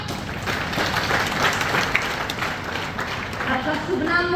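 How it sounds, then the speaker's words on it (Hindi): Loud, sustained applause from an audience at a direct-selling seminar, a dense steady wash of clapping with a voice briefly audible over it. "चलो मैम के लिए जोरदार तालियां।"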